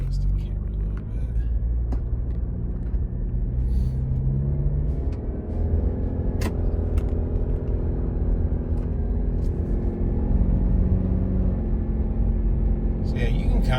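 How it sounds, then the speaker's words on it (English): A Subaru Outback with its stock exhaust, refitted in place of an aftermarket system, drives along with a steady, close low engine and exhaust drone and road rumble throughout. "Yeah, you can kind of hear the exhaust a little bit on this."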